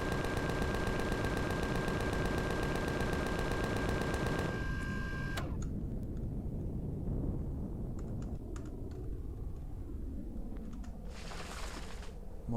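Gunfire in the sci-fi survival game Empyrion, aimed at golem creatures: a fast, evenly spaced burst of shots for several seconds, then a few scattered single shots fainter in the quieter stretch that follows.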